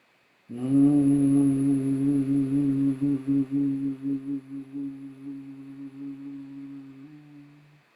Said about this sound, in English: you can feel the humming also in this area